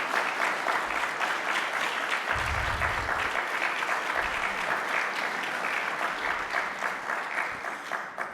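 Audience clapping for event volunteers at a festival gathering, a continuous wash of applause from a sizable crowd, fairly distant and even, with a few low thumps underneath.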